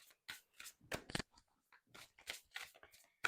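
A tarot card deck being shuffled, a quiet series of short papery riffles and flicks in irregular bursts, close and alone without talk.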